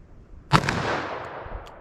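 A single loud .45 ACP revolver shot, fired single action with Federal old-school ammunition, cracks close by and then rolls off into a long outdoor echo.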